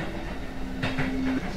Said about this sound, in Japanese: 向こうで走ってる電車って何なんだろう